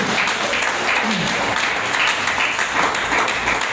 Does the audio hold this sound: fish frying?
no